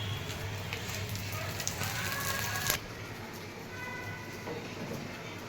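An egg poli fries in oil on a pan with a steady, close crackling sizzle that runs throughout, marked by a brief sharper spike partway through.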